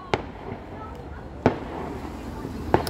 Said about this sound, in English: Fireworks are back.